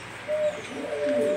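Fancy pigeons coo nearby in soft, short rising and falling calls, one following another, with no talk.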